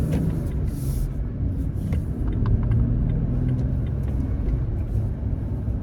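A car engine rumbles steadily from inside the cabin while the driver rev-matches, giving a low continuous drone with slight swells and faint clicks above it.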